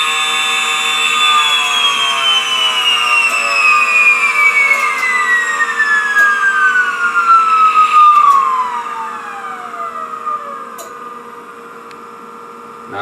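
A small electric motor spins at roughly 50,000 RPM on 49 volts, giving a loud, steady high-pitched whine that slides steadily downward in pitch over a low mains-like hum, close up and alone.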